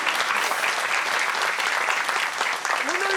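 Applause from guests at a Korean traditional wedding ceremony, a dense steady patter of many hands lasting the whole stretch, with a brief tonal sound rising near the end.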